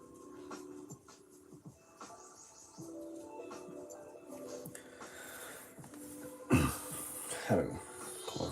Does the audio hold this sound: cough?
yes